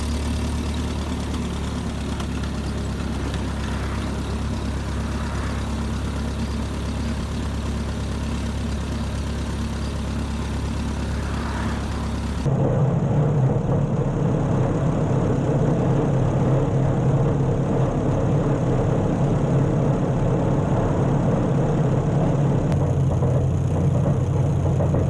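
Ford 8N tractor engine running steadily in fourth gear at low throttle while mowing with a brush hog, a constant low droning rumble that shifts tone partway through, close and loud with no talking.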